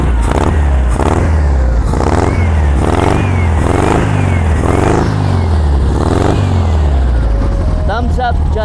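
A 1969 VW dune buggy engine revs over and over in loud, rhythmic bursts, rising and falling about once a second close by, with a person talking briefly at the end.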